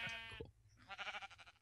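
Sheep bleat twice in a blocky sandbox video game, a first long wavering bleat followed after a brief pause by a second quivering one, close and clear.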